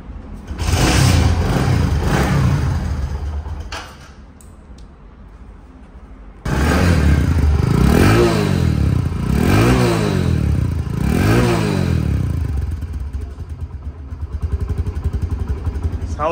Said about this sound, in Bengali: আমি কিক দিয়ে স্টার্ট দেওয়া হচ্ছে।